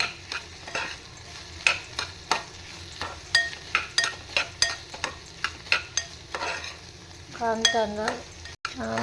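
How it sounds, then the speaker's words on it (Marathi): Ginger-garlic paste (store-bought Everest brand) being stirred with softening onions in a pan, a steady run of spoon scrapes and clinks over a low sizzle, with a louder scraping burst near the end. "हे आलं लसणाची पेस्ट टाकून घेते. ते पण ढवळून घेणं छान मस्त पाहिजे."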